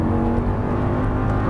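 A 525 hp Audi R8 V10 at full throttle on a racetrack, its dense, loud engine roar held steady and close throughout the short burst.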